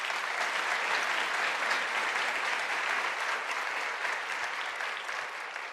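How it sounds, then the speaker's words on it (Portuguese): An audience at a talk applauds in a dense, steady wash of clapping that holds for several seconds and fades slightly toward the end. "Por favor, aplaudam elas."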